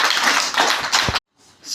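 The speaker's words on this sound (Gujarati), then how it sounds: "તાળી પાડો જોરદાર" Schoolchildren at a primary-school running race break into dense, brisk clapping for the winner, then it cuts off abruptly and fainter clapping resumes.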